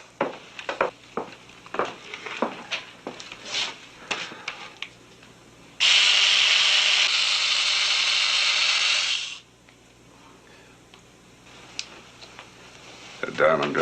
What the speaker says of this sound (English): The diamond drill doesn't need to scratch it.